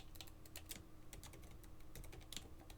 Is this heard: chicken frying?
no